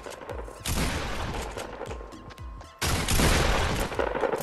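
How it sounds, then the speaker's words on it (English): Shotgun blasts in a Fortnite Battle Royale match, loud, dense bursts of gunfire with a brief lull before another heavy volley, no voices over it. "got a shotgun to deliver"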